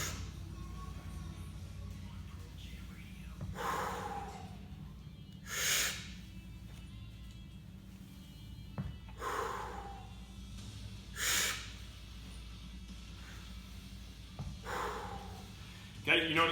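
A person breathes in strong, sharp bursts during kettlebell deadlifts, with several loud close inhales and exhales spaced a couple of seconds apart over a low steady hum.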